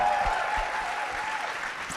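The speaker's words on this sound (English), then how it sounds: "to join me in just giving great kudos and applause" An indoor audience claps in a dense, steady round of applause that fills the whole moment at an even loudness, with no one speaking over it.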